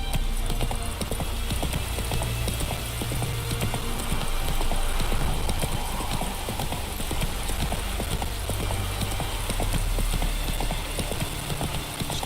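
Horse hooves clip-clop steadily throughout as Roach, a horse in The Witcher 3 video game, trots along, the rhythmic beats close and continuous over low ambient rumble.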